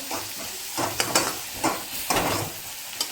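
Ridge gourd curry being stirred in a pan after salt goes in, a constant close sizzle broken by several rhythmic scraping stirs of a spoon against the pan.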